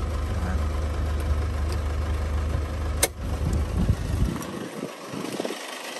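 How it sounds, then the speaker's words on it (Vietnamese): A 2011 Nissan Navara 2.5-litre diesel engine idles with a steady low rumble up close, a brief click partway through, then the sound thins and fades toward the end. "Với dòng Nissan Navara đời 2011 máy dầu đây, máy nổ tương đối là êm đó nhá"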